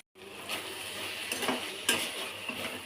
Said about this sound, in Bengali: এই যে এখন চিকেনটাকে কষাচ্ছি ভালো করে